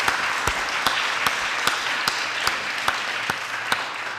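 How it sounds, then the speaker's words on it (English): Steady applause from a council chamber audience, a continuous patter of many hands with a few sharper individual claps standing out at a regular pace, moderately loud and close. "there's a round of applause there"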